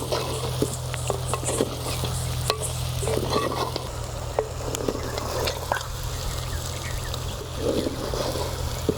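Garam masala is stirred into a prawn and okra (lady finger) curry in an Andhra-style pan, with steady scraping and stirring over a continuous low sizzle and faint scattered clinks throughout.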